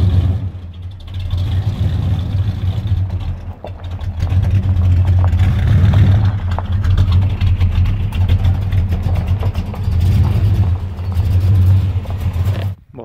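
A Pontiac car engine idles steadily after starting, a deep low rumble with slight swells in revs, close and loud throughout with no talking.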